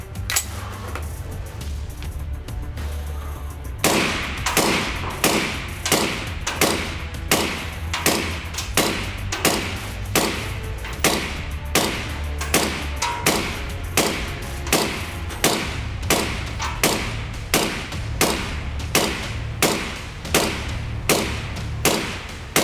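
Suppressed 5.56 NATO rifle fitted with a KGM R556A2 suppressor, firing a long string of evenly spaced muffled reports at about two shots per second, each a heavy thud against steady background noise.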